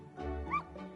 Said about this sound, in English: I took the dog out without anyone seeing and walked her around the capital.